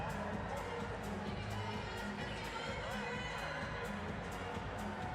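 Crowd cheers and shouts at a sitting volleyball group match at ExCeL, London 2012, Iran against Brazil; a continuous, loud roar of voices with rhythmic clapping and a commentator talking over it.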